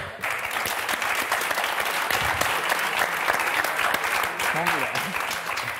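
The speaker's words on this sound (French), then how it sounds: "Et applaudissements." An audience applauds in steady, dense clapping that carries on for several seconds. A few voices speak faintly underneath.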